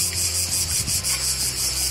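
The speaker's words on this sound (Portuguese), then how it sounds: "Até queria falar, mas a cigarra não me deixa." A cicada buzzing loudly on a hilltop by a castle at Castell'Arquato, a harsh pulsing high drone repeating in steady bursts, close and alone.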